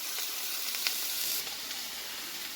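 Mushrooms sizzle steadily in hot oil in a pan as they are stirred, a constant close hiss with a few light scrapes and clicks, no voices.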